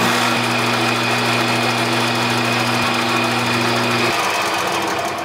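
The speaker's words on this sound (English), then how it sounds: "now I need to get in here with my center drill and mark the center of that" A metal lathe runs steadily with a center drill marking the center of a rod for a motorcycle steering stem, giving a loud, even mechanical hum with a motor whine that shifts pitch slightly near the end.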